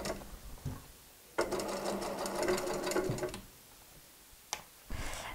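A straight-stitch-only sewing machine hems a garment in a workshop, running in a loud continuous burst of rapid ticking stitches for about two seconds, with faint shorter whirs before and a brief restart near the end.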